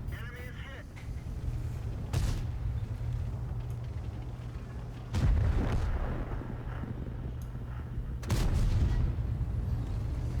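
Three heavy tank cannon shots boom out in World of Tanks, evenly spaced across the stretch over a steady low engine rumble, each a loud broadband blast with a short decaying tail, and no talk alongside.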